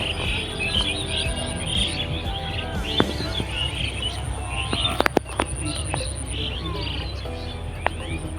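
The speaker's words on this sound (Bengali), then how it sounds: "চারিদিকে পাখির কিচিরমিচির ডাক" Small birds chirp and twitter around a rural village path amid steady insect buzzing and light rustling, with a few sharp clicks and no talking.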